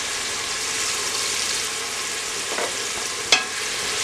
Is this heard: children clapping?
no